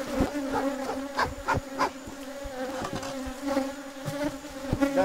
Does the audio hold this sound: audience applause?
no